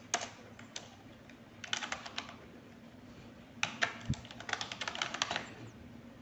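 Keys are pressed on a computer keyboard in scattered clusters of light, close clicks and taps with pauses between bursts, quiet and without talk.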